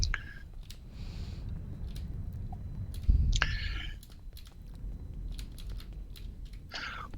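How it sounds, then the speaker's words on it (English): Clicky computer keyboard typed on at a desk during a casual morning game session: scattered quick clicks and short key bursts, fairly close, over a steady low room hum with no voices. "Yes, I'm using my clicky keyboard today."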